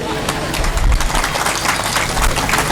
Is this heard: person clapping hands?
yes